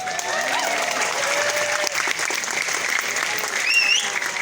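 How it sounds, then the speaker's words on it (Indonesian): An audience applauds at a Maulid Nabi religious gathering, a steady crowd clapping that stays even throughout, with some voices and a whistle-like tone mixed in. "Tepuk tangan semuanya."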